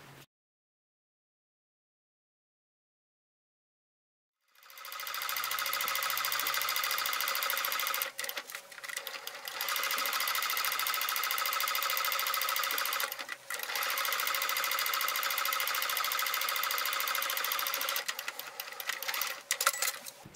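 A sewing machine stitches along the fabric edge of a multi-pocket shopping bag, starting after a few seconds of silence and running in a steady, close, rapid whirring stitch with brief pauses.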